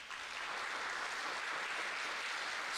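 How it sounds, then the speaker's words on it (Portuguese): A church congregation claps together for Jesus during a sermon on the Apocalypse, producing a dense, even wash of applause that holds steady and moderately loud from start to end. "Palmas para Jesus."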